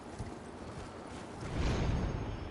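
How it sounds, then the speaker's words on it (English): Horse hooves in the video game Elden Ring, a steady clip-clop of soft rhythmic thuds that grows louder and heavier partway through, heard without speech. "just hop on the horse"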